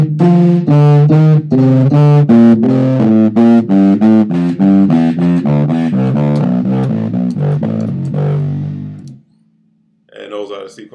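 A bass guitar plays a 4-1-3 finger sequence backwards, moving down the neck at a slow pace: a steady run of distinct, close, sustained plucked notes, followed by a brief quiet gap and a short scrape at the end.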